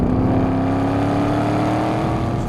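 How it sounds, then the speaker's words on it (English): Chevrolet Camaro Z28 (2014) accelerating hard on a race track, a loud, steady engine drone with a rising pitch as the revs climb, heard close from the cabin with no talk. "We are generating some G-force with the Camaro in all directions. Acceleration, cornering."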